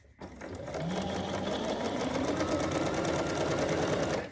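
A sewing machine stitches steadily for about four seconds, a fast even rattle of needle strokes on an apron seam, starting abruptly and running at constant speed, close and fairly quiet with no talk.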